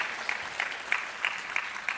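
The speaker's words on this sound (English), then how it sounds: "Let's clap for that, seriously." Sparse, faint clapping from a conference audience in Las Vegas, a soft spread of hands with a few distinct claps marking a loose rhythm, distant and thin.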